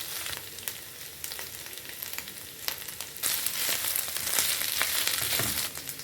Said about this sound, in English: I prefer sauteing it because it really brings out good flavors